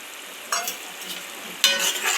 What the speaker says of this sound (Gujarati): સરસ આપણું ઉકળી ગયું છે.